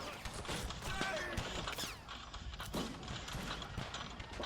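Volleys of musket fire from redcoats and the Continental Army in a Men of War forest battle crackle steadily, with sharp cracks and clattering impacts among trees and bushes, dense and continuous throughout.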